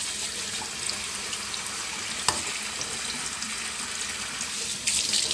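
Tap water runs steadily into a pot as rice is rinsed in a home kitchen, a continuous close splashing hiss with a brief knock midway and a slightly louder surge at the end.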